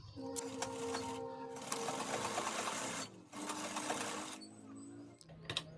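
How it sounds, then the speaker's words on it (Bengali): A sewing machine stitches fabric belt loops for half pants in two close, steady runs separated by a short pause, with a brief final burst and faint talk in the background. "এভাবে লুপ্পিগুলো সেলাই নেবে প্রথমে।"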